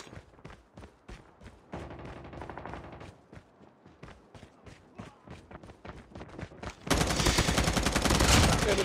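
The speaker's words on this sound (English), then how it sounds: "Sentry gun ready for deployment." Gunfire from a sentry gun in Call of Duty Mobile rattles in rapid, repeated bursts, then swells into a dense, louder stream of shots at the end.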